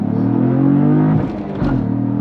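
A 2022 Cadillac CT4-V Blackwing with a six-speed manual roars loudly at full throttle, pitch climbing steadily, then drops briefly at a quick no-lift gear shift before pulling hard again.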